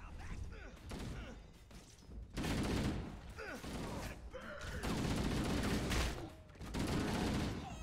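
Gunfire in the video game Halo CE, dense bursts of shots and thuds in a chaotic firefight, loud and continuous with brief lulls, with players talking over it.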